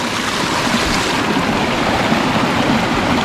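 A natural forest waterfall pours and splashes in a loud, continuous broadband rush, close by, with no voices over it.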